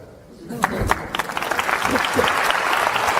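After a brief quiet moment, an audience at a talk breaks into applause that swells and holds steady, with a voice briefly audible over the clapping.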